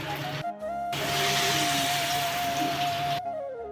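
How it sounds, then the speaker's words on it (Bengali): Lentil fritters (bora) frying in hot oil in a wok, a loud steady sizzling hiss that fills the clip, with brief quieter gaps and a faint tonal hum underneath. "তো দেখো এই যে বড়া ভাজা হচ্ছে"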